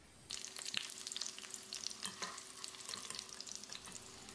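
Brinjal pieces sautéing in oil in a pan for ennai kathirikai kulambu make a close, steady crackling sizzle, with scattered sharper pops and spoon-scraping clicks.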